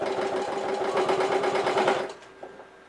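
A sewing machine runs in a steady rapid chatter for about two seconds while stitching the raw edge of a purse closed, then stops, close by with no talk.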